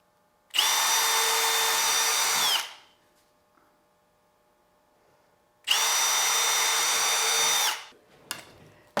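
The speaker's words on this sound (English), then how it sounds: "I can easily gauge where I should pre-drill the holes" A power drill whirs loudly twice in two sustained bursts of about two seconds each, pre-drilling holes in wood for a box, separated by a quiet pause, close to the listener.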